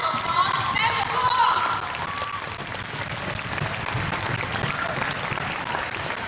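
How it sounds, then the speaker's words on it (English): Students clap and cheer in a loud, sustained wave of applause at a community event with an MP, with bright shouts early on that settle into steady clapping. "You really deserve a good round of applause."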